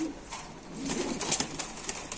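Racer pigeons sold in pairs with leg rings coo in low, rolling bursts at a pigeon market, near and fairly clear with little talk.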